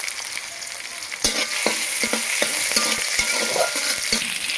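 Cumin seeds hit hot oil for a potato dal and fry with a steady bright sizzle. Sharp clacks of a spoon stirring the pan sound up close, with no talking.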